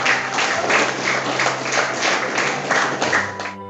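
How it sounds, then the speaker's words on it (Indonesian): Applause from a classroom of students for a group about to present, a steady dense wash of many hands clapping close by, continuous throughout and tapering slightly near the end. "Silakan diberi aplaus, tepuk tangan yang keras untuk kelompok yang maju"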